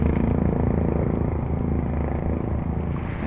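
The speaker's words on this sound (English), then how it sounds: "These motorcycles driving by." Motorcycles driving by on a street, a steady loud engine rumble that holds throughout without clear rises or fades.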